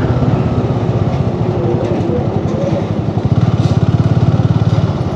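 A motorcycle on a road near Palm Beach Road, Mumbai, heard from a moving vehicle: a steady, close engine drone that rises into a stronger pulsing throb partway through.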